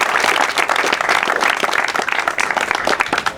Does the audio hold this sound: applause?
yes